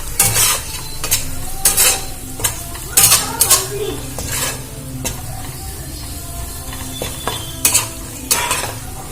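Sliced onion with ground coriander, cumin and red chili powder sizzles in a pan while a metal spoon stirs and scrapes in repeated bursts, loud and close, with no talking.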